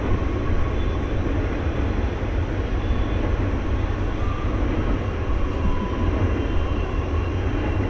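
A train rumbles past in a steady, dense roar of low-frequency noise that holds constant without a clear approach or fade, fairly loud and unbroken throughout.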